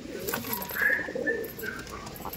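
Soft cooing of Giribaj pigeons sitting on eggs in a loft, a few low murmuring coos with faint chirps around them, fairly quiet and close.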